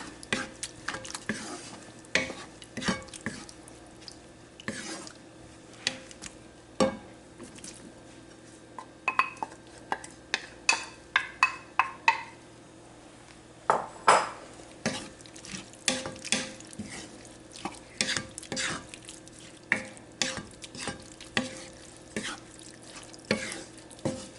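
Chunks of mango tipped into hot, just-boiled Kerala-style pickle masala and stirred, with repeated scraping and clinking of a spoon against the pot and a soft sizzle, steady and close with no voices.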